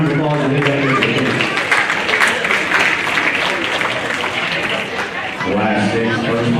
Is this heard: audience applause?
yes